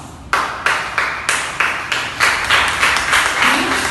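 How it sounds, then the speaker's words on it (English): An audience claps to welcome a group of future teachers being introduced at a school program, giving a steady run of broadband claps that keeps building for about four seconds. "Let's give them a round of applause."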